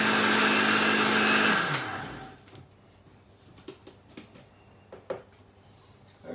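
A blender mixes peanut sauce with water in a loud, even whir. It winds down after about two seconds and is followed by a few light knocks and clatters as the lid is handled.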